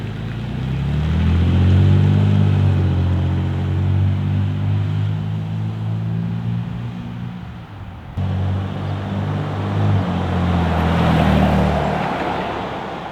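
A Toyota Tacoma pulling away and driving past with a new high-clearance exhaust, a loud, deep, low engine rumble that swells and fades, shifts partway through, then builds again, close by with no talking.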